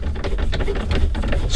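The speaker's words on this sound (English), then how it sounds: "Now let's remove the 4 screws, upper left. It's an 8mm" Ratcheting and clicking from a tool backing out 8mm screws on the upper left of a 2007-2018 Jeep Wrangler's interior, a busy, rapid patter of close mechanical clicks throughout.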